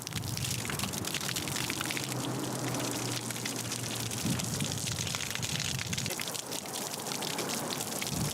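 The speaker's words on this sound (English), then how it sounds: "All right, hose them down." A hose sprays water onto people outdoors, a steady dense hiss and splatter that runs throughout at close range, with a brief low hum mid-way.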